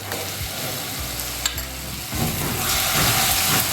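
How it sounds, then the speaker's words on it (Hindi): Garlic, ginger and green chili paste fries with onions in a pan for restaurant-style chana masala, a steady close sizzle with stirring scrapes that swells louder and brighter partway through, no talking. "अब डालेंगे 2 टेबलस्पून लहसुन, अदरक और हरी मिर्च का पेस्ट।"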